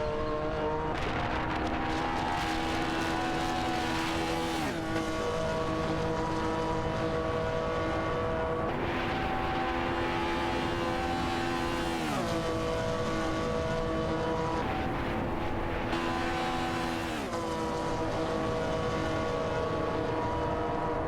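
Race car engines in a racing video game, BMW M1 Procar and Chevrolet Corvette C3 battling, a loud continuous high-revving roar with layered engine tones rising and dropping at gear shifts and passes, with no voices.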